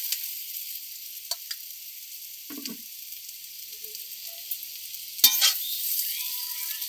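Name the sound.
chowmein frying in a wok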